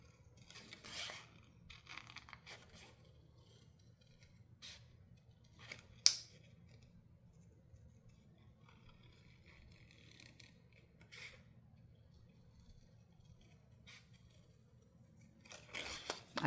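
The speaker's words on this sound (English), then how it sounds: "So let's just cut this out as best we can." Paper being fussy cut with scissors, with sparse close snips and soft rustles spread over a quiet stretch, a few sharper clicks standing out and a louder burst of handling near the end.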